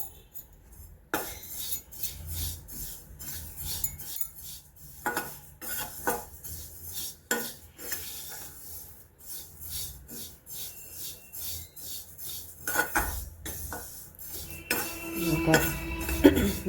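Black sesame seeds roast in a pan while a spoon stirs them, giving irregular metallic scrapes, clinks and taps against the pan, with soft sizzling and brief quiet gaps between strokes.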